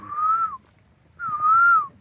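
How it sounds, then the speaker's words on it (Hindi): A male koel calls twice in the Himalayan foothills near Tanakpur, Uttarakhand, each note a clear, rising then falling whistle about half a second long, separated by a short pause, over faint background noise. "अब मतलब कोयल जो आवाज है वो मेल की है बेसिकली"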